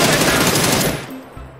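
Rapid automatic gunfire in a battle royale video game on the new Deston map, a dense loud burst that cuts off abruptly partway through, with faint voices behind it.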